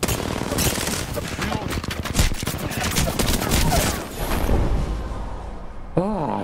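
Rapid bursts of automatic gunfire in the battle royale shooter Apex Legends, loud and dense shots crackling continuously with a reload clatter near the end, player voices faintly mixed beneath.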